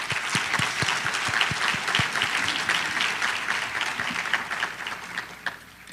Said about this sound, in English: I would like to applaud you once again.